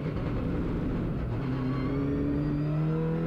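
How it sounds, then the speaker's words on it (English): An Audi RS 3 LMS WTCR race car accelerates at full throttle on track, with a loud continuous engine roar climbing steadily in pitch, heard from onboard. "Very good early full throttle on the acceleration, no wheel spin at all."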